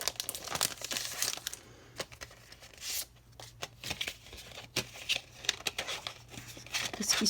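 Plastic packaging of insect-shaped scrapbooking embellishments being opened, giving close, irregular crinkling and tearing bursts with brief pauses between them.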